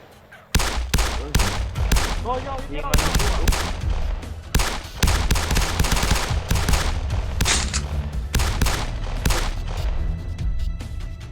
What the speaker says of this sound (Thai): ตามเสียงปืนไปกันเถอะ